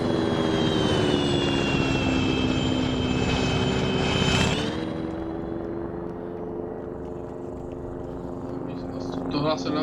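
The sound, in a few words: helicopter flying overhead, from a video game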